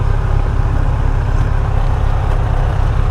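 Yamaha FJR 1300 motorcycle accelerating in third gear, a steady loud engine roar with dense low rumble and constant wind-like noise throughout, close and uninterrupted.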